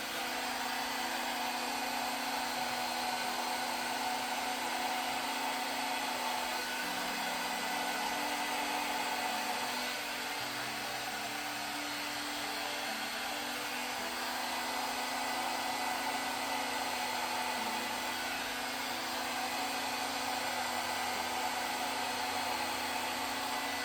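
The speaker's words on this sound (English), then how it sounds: "I have my hairdryer on low." A hair dryer on its low setting blows steadily over wet watercolor paint, a constant close whirring hiss that runs unbroken with only slight shifts in pitch as it moves.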